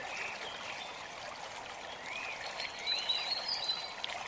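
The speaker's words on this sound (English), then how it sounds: "you can see for yourself the River Mimram, a chalk stream which is being conserved" The River Mimram, a conserved chalk stream in Hertfordshire, flowing with a steady soft rush and trickle that swells slightly toward the end, with faint high chirps that may be birds above the water.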